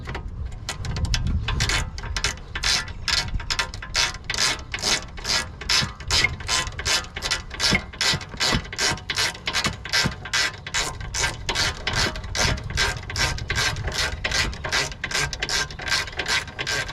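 Ratchet wrench tightening a long bolt on the rear brakes of an Audi A7/A6 C7 3.0T Quattro with Brembo pads: a close, loud, continuous rapid clicking of the pawl, steady and rhythmic for the whole stretch.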